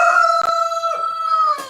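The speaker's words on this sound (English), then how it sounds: "roosters crow to be like," A rooster crows one long, loud, close cock-a-doodle-doo on a morning farm in Maine, the drawn-out call carrying clearly with no talking over it.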